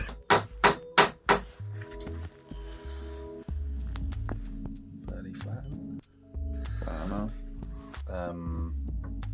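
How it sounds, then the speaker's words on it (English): A hammer flattens the metal hoops on a cheap tape player being converted into a tape delay: four sharp, loud strikes in quick succession, then softer handling knocks and someone talking nearby. "Flatten the hoops with a hammer."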